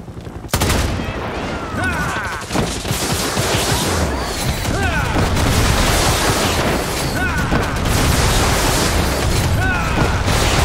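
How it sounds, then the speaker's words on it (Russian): A grenade blast in Far Cry 6 lands amid dense, continuous gunfire and rumbling booms, loud and close, with voices shouting over the battle. "Граната!"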